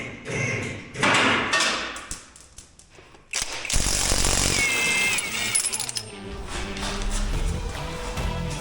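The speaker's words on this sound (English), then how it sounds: "Now we need to go ahead and unbolt these shocks, which I think are 3/4." Power tool rattling loudly in bursts while unbolting 3/4 shock bolts on a small off-road wrecker truck, with clanks and thuds around it, close by.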